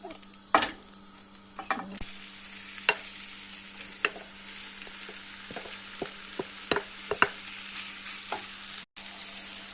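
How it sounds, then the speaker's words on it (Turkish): Pre-cooked sliced döner meat frying in melted butter in a pan, a steady soft sizzle broken by several sharp scraping knocks as the slices are stirred, close and alone with no talk. "Şöyle 1-2 dakika kadar tereyağıyla beraber harmanlayarak karıştıracağım."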